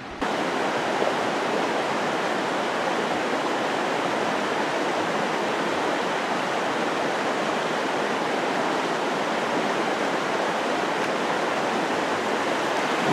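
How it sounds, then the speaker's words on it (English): A river near a campsite rushes steadily, a dense, loud, unbroken wash of flowing water that holds at the same level throughout, with no voices. "I'm getting close to the river now. It's a beautiful river."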